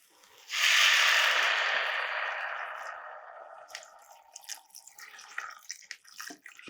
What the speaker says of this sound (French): Et maintenant, je vais mouiller avec 1 litre d'eau.